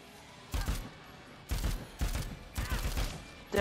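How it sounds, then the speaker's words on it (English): Assault rifle fire in the zombie video game Dead Rising 4, four loud separate bursts of rapid shots in a few seconds, each cutting off sharply into quiet. "give me this assault rifle"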